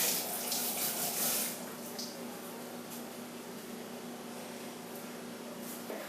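A kitchen tap runs steadily as lime juice is rinsed off hands, a loud close splash at first that settles into a softer continuous flow of water.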